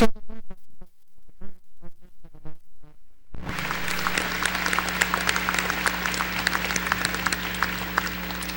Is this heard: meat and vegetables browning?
no